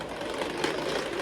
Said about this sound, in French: Et on va fouetter le tout. Vitesse 1.